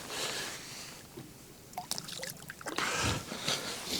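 Fish released by hand back into the lake from a fishing boat, a brief watery splash and trickle among light handling noises, fairly close, with no talking.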